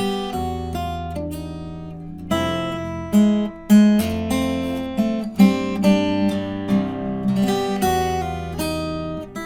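Plucked harp guitar strings play a chromatic walking bass line with an open E under ringing upper notes, with steady, moving low tones and no talking.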